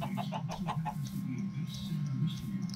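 Chicken clucking in the Minecraft video game, a few short repeated clucks over a steady low game hum and background noise, fairly quiet in the mix.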